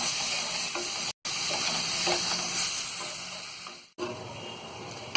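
Gravy for dal makhani sizzling and sautéing in a pan, a steady close hiss and crackle throughout with faint stirring scrapes, broken by two brief gaps.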